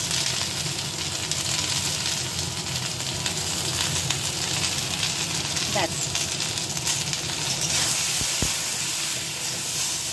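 Vegetables and hilsa fish fry in a pan with a dense, steady sizzling hiss throughout, close and even, broken by a couple of brief clinks of a utensil near the end.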